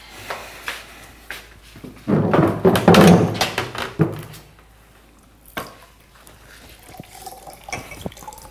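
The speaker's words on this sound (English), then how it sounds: "You're spilling water all over the place" Water spills and splashes indoors in a short cluster of wet slaps and drips, moderately close, with a louder burst in the middle and scattered small clatters after.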